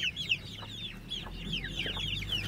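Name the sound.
Aseel chickens clucking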